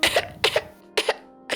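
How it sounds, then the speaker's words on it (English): A man coughs in a smoke-filled space: three sharp, close coughs, each a quick double burst, spaced about half a second apart, with the start of a fourth at the end. "He gives a cough."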